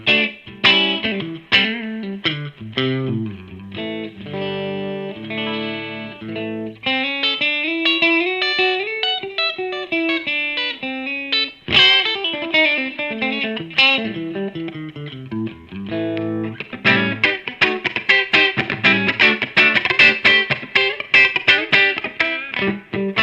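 A Nuno signature electric guitar with its coil split, set to the middle pickup position, plays a clean tone, with chords and single-note runs ringing out loud and alone.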